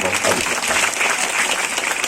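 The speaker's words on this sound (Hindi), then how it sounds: "मैं चाहता हूं कि उसका भी एक बार जोरदार तालियों के साथ" Loud, dense applause from a gathered crowd honoring the MLA at a World Tribal Day event in Malanjkhand, steady throughout.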